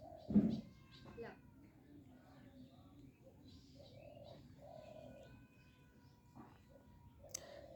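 A cat meows a few times, short tonal cries at moderate distance, while people talk quietly in the background.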